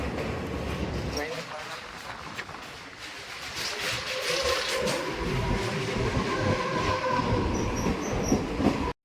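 Train rolling past a railway workshop, a steady rumbling ride with rail clatter and faint wheel squeal, heard from on board with muffled voices in the background.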